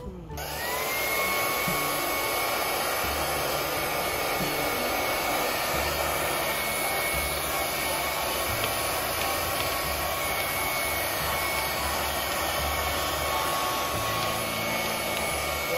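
A household vacuum cleaner runs steadily and loudly throughout, with a constant whining motor tone and no pauses, suggesting a cleaning session to reduce allergies.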